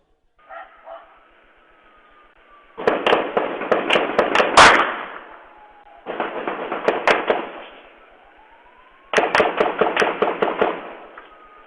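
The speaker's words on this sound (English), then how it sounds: "It was a rapid fire automatic weapon." Three long bursts of rapid automatic gunfire, loud and sharply cracking, separated by brief lulls; a couple of faint pops come before the first burst.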